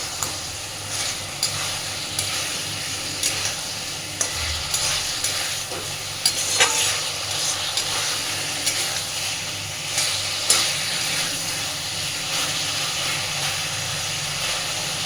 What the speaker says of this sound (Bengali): এই সময় আমি ভেজে রাখা মাছগুলো এর মধ্যে দিয়ে দিচ্ছি। মাছগুলো দেওয়ার পরে আরও মিনিট 2 খুব ভালোভাবে কষিয়ে নেব।